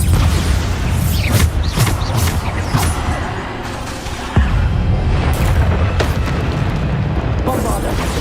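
Bombarda blasting spells detonate repeatedly in the Hogwarts Legacy game, a loud continuous barrage of deep booms and crackling bursts with sharp impacts recurring every second or so, mixed with spoken spell shouts.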